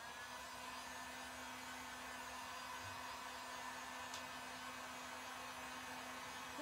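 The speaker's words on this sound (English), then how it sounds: "I'm gonna take my heat gun. And I'm going to finish up drying up our bunny here." Heat gun blowing over a painted wooden bunny sign, a steady, even whooshing hum held at constant loudness throughout with no talking.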